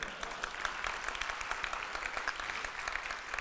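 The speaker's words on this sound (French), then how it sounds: "Normalement, vous applaudissez, c'est cool." Audience at a French conference keynote applauding, a dense steady patter of many hands clapping throughout, moderately loud and filling the room.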